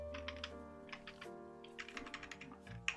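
Typing on a computer keyboard, a few short bursts of light, quick key clicks over a steady electronic hum, close and quiet, with no voice.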